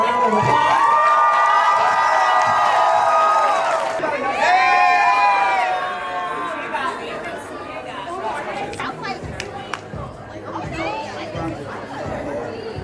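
A crowd at a lip sync competition at MomoCon 2025 cheers, whoops and chatters loudly, with excited shouts over a dense hall murmur that fades into mixed chatter and scattered noise.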